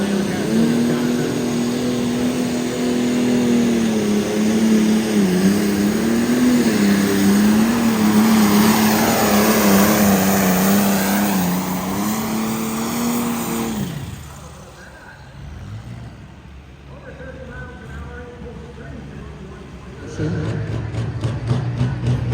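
An alcohol-burning pulling tractor from Lancaster, Wisconsin roars loud and steady at a county fair truck and tractor pull, its engine note wavering before cutting off, then picking up again, with an announcer talking over it.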